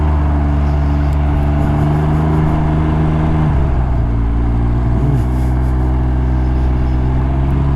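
A Can-Am Ryker three-wheel motorcycle out on a ride, its engine a steady loud drone heard close up, with pitch shifts as the rider changes speed partway through and a constant rush underneath.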